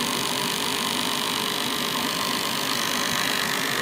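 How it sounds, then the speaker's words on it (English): A homemade motor generator runs at speed with a loud, constant mechanical hum and whir that stays even and unbroken throughout. "Get her going at a good RPM."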